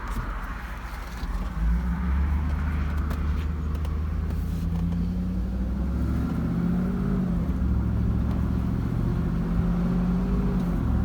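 A 2009 Cadillac Escalade engine, fresh from new spark plugs and an O2 sensor, revs under throttle with a steady, loud low rumble and rising harmonic tones, no talk over it.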